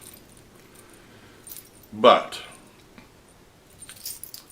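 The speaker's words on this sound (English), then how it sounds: "here's the set of keys that I use." A set of vending machine keys jangles in one short metallic burst of about half a second, close and fairly loud, with light rattles after it and a person speaking around it.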